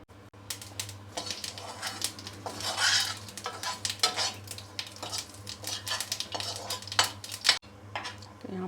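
Mustard seeds crackle and pop in hot oil before drumstick and potato go in, making a dense run of sharp close clicks and spits with occasional metallic clinks from the pan.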